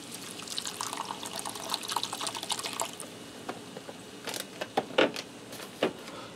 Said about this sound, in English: Now I'm going to add in 1 cup of beef broth, and I'm just going to eyeball this.